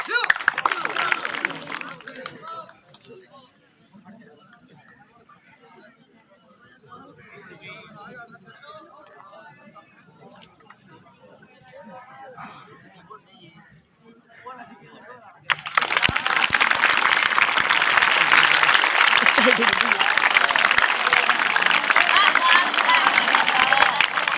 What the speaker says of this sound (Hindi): तालियां मारो भाई, तालियां मारो